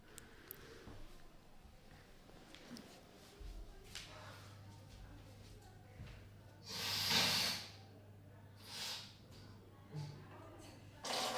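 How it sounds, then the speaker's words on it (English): Someone blows their nose with a loud nasal honk midway, followed by a few shorter snorts and sniffs over faint background hum, close and otherwise quiet. "I just need to blow my nose."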